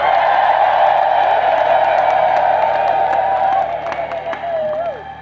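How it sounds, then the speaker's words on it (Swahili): Congregation at a women's World Day of Prayer church service clapping and ululating: loud, sustained high trilling over steady applause, easing off toward the end. "Tumshukuru Mungu kwa makofi na vigelegele."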